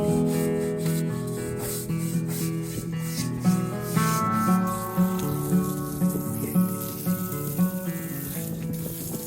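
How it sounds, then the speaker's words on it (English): Old window sealant is being scrubbed off a sailboat, a steady rubbing and scraping with repeated strokes, close by and fairly loud, with tonal music underneath throughout. "it looks like I'm actually scrubbing some of that, the little sealant that we have left off."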